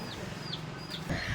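Live desi chicken clucking, a few short high-pitched clucks spaced apart, faint under a steady background hiss.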